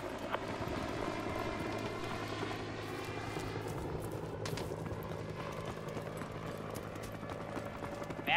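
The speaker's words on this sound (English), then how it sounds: "We got a visual on a pair of enemy attack helicopters headed for your area." Enemy attack helicopters in Call of Duty Modern Warfare 2 Remastered thrum with a low, steady rotor drone over a battlefield, faint and continuous beneath scattered game effects.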